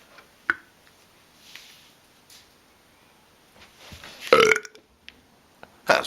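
A man full of beer lets out a few weak, short burps close by in a quiet room, with small clicks and a louder croaky belch near the end.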